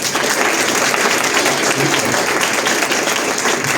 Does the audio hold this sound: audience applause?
yes